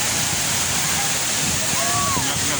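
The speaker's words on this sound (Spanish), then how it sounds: "Las cascadas de Tamazopo en San Luis Potosí" Tamasopo waterfalls in San Luis Potosí pour in a steady, loud rushing wash of water close by, with faint voices and a brief whistle-like tone partly buried in the roar.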